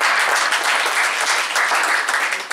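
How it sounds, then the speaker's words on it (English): Steady, dense applause from an audience honoring the keynote speaker at an academic talk, continuous and fairly loud throughout with no pauses. "A very big round of applause for sir."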